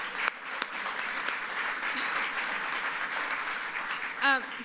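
An audience at a hunger summit applauds in a large hall, a steady wash of many distant hands clapping for several seconds, with a brief voice rising near the end.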